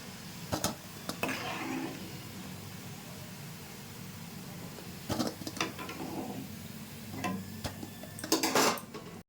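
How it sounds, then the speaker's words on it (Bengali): Metal utensils clink and scrape against a pan as fried milk-powder sweets are lifted out, sharp clusters of clatter over a soft background hiss, fairly quiet with no talk. "মিষ্টিগুলো ভাজা হয়ে গেছে, তুলে নিচ্ছি।"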